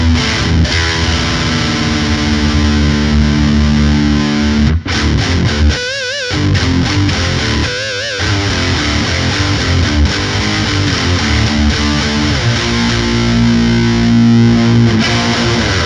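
Electric guitar through a Randall RD1C 1-watt tube combo, scooped setting with extra gain, sounding dense and heavily distorted as chords ring continuously at a loud, even level, with brief chugging breaks and no voices.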